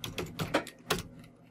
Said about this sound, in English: you can also type localhost